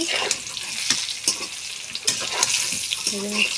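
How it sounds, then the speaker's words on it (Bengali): Potatoes and pointed gourd frying in oil until reddish, a close crackling sizzle broken by clattering stirs, with a faint hint of a voice in the background. "আলু পটল ভেজে নিচ্ছি"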